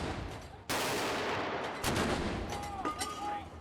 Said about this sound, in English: The Tower of London has been greeting VIPs with gun salutes for hundreds of years. Today, 4 guns are fired.